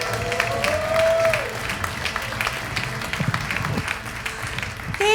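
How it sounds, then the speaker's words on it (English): Audience applause at a live comedy show, a dense steady wash of many hands clapping that carries on for about five seconds and swells again briefly at the very end, with no one talking over it. "Thank you for that applause."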